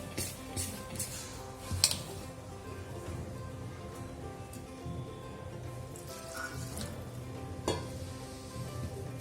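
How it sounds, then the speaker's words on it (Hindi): Soft, continuous wet stirring of sour buttermilk into flour for dhokla batter, with scattered clicks and splats, fairly quiet and close. "इसमें हमें खट्टी छाछ डालना है और मिक्स करना है।"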